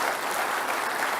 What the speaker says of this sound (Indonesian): kita bisa kasih tepuk tangan untuk Pak Anies Baswedan